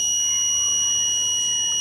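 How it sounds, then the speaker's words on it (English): A steady high-pitched electronic buzzer from a push-switch logic gate circuit drones continuously and loudly without a break. "And in that case, the buzzer sounds."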